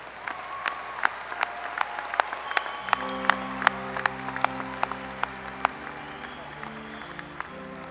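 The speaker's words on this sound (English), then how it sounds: "please join me in a hand for our graduates from design and merchandising" A large audience at the Davis College of Agriculture, Natural Resources and Design commencement applauds steadily for the graduating design and merchandising students, a dense clapping wash with sharp individual claps and a sustained organ-like tone underneath.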